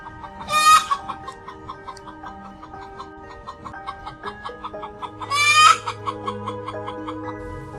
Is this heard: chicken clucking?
yes